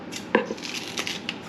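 A knife chops green onions into chunks about an inch and a half long on a board, with a sharp first cut followed by lighter, uneven taps that fade after a brief stretch of quiet.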